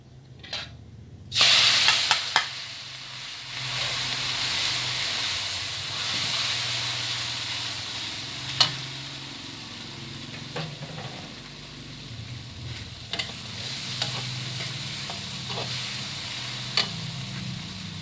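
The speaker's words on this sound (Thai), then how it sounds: "พอน้ำมันร้อนเอาพริกกระเทียมใส่ลงไปเลย" Chili and garlic sizzling in hot oil, a steady hiss with sharp initial crackle and occasional spits and pops, close up, no talking.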